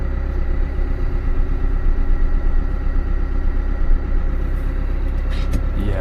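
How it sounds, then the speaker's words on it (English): A tractor engine idles in a farming video game, a loud, continuous low rumble with a steady throb and no break. "Now we're gonna put this tractor here."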